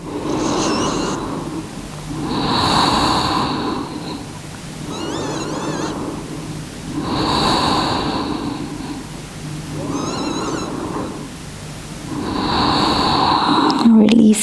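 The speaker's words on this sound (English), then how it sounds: "Three more breaths." Slow, deep breaths during a yoga session, each long inhale and exhale a broad, rushing wash of air, repeating about every two to three seconds, close and steady with no talk.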